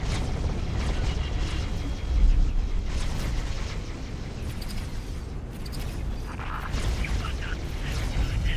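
Ship guns fire in the space game X4: Foundations, a rumbling series of heavy booms and mechanical thuds rolling continuously under a steady low drone.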